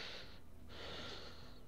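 Faint sniffling from someone with a cold: two soft airy breaths drawn through the nose, separated by a brief pause, quiet and close with no talking.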